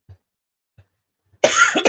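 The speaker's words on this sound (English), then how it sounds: "Apologies for the coughing." Two or three faint coughs, then a loud, harsh burst of coughing and throat clearing from a person recovering from COVID, close to the microphone with no talking.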